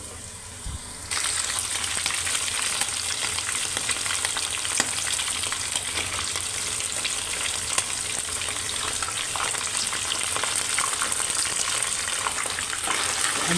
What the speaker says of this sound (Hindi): गोश्त डालने के बाद ना मैंने 2 चमचे अदरक लहसुन का पेस्ट डाल के अच्छी तरह जो है इसको भून लूँगी